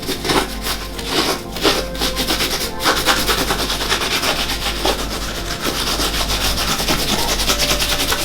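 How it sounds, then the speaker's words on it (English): A cleaning wipe scrubs a sneaker midsole vigorously, making a close, loud, rhythmic rubbing and scuffing with rapid back-and-forth strokes and no talking. "Give it a good scrub"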